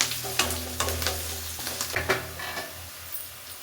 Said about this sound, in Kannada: ಇವಾಗ ನೋಡಿ, ಕ್ಯಾರೆಟನ್ನು ಹಾಕ್ಕೊಳ್ತೀನಿ.